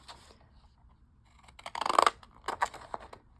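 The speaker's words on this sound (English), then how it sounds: "So you just want to cut out the image you glued down, leaving a small border around it of the white cardstock." Postal craft scissors with a scalloped postage-stamp edge snip a glued image out of white cardstock, making a quick run of close, crisp cuts in the middle and a few more snips after a short gap.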